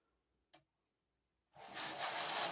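A vintage knitting machine gives one brief click, then after a pause its carriage makes a sustained rasping, rushing slide across the bed, close and fairly loud, with no talking.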